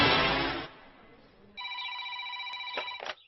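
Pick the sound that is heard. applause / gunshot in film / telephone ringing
telephone ringing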